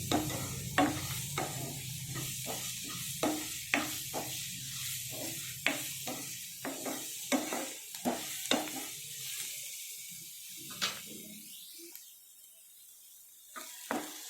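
Onions frying in a pan for lobia (black-eyed pea) curry, a steady close sizzle broken by repeated sharp scrapes and taps of a spoon stirring, the sizzle easing off toward the end.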